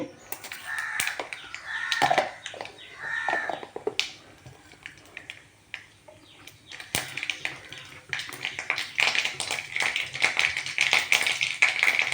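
Mustard seeds spluttering and popping in hot oil while cooking kumbalanga (ash gourd) thoran, with sharp, irregular snapping pops scattered through the clip and denser crackling toward the end.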